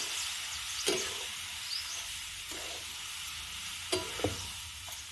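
Dal sautéing in a pan in a village kitchen, a steady soft sizzle with a few sharp scrapes and stirring clatters scattered through it, no voices.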